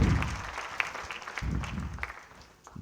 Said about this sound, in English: Shall we give him another round of applause,